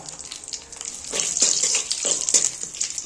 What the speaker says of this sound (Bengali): ফোড়ন দিচ্ছি দুটো তেজপাতা দারচিনি লবঙ্গ এলাচ আর একটা শুকনো লঙ্কা